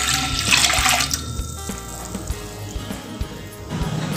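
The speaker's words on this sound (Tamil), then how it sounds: "இப்போ இந்த பேனில் ஒரு போனி அளவுக்கு தண்ணி சேர்த்துக்கலாங்க." Water poured into a heated pan while making idli sambar: a loud rushing, splashing pour at the start that eases into quieter bubbling and sizzling with a few small knocks.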